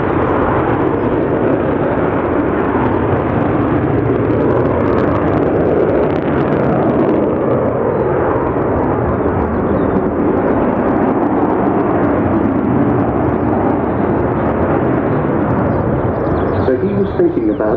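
An Avro Vulcan delta-wing bomber flying at the RIAT airshow in July 2012 produces a heavy, continuous, loud jet roar with a deep rumble that holds for the whole stretch.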